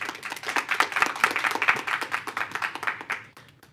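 Audience applause at a school board of trustees business meeting, a steady dense patter of many hands clapping that holds for several seconds and then tapers off near the end.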